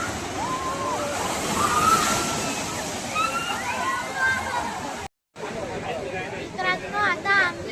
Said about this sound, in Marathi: हे बघा इथून काहीतरी पाण्याची बकेट पडते.